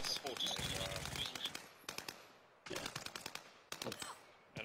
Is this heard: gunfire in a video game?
yes